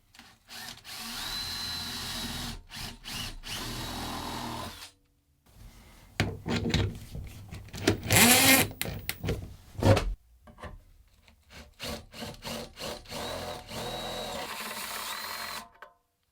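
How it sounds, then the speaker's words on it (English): A power drill whines through metal in several bursts, stopping and starting, with a longer sustained grinding run in the middle and a few clicks between, drilling an 8mm hole and opening it to 12mm with a step bit. "first I'm going to drill a 8mm hole, then grab a step bit and open it up to 12mm"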